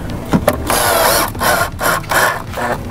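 Power driver running screws in during a car subwoofer install, giving several bursts of whirring and ratcheting, each about half a second long, close and fairly loud with brief gaps between them.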